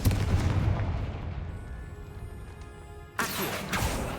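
In Hogwarts Legacy, a Confringo fire spell blasts with a loud booming burst that rumbles and fades over a few seconds. A second sharp impact follows near the end, with no speech.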